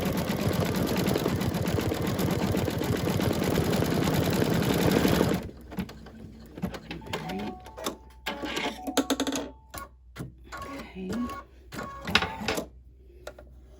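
An embroidery machine stitches the whiskers and mouth of a tabby cat design on an eyeglass case. It runs as a loud, rapid, steady stitching chatter for about five seconds, then stops and leaves only sparse, quieter clicks and rattles.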